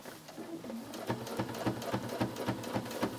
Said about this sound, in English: And we are stitching right next to that binding.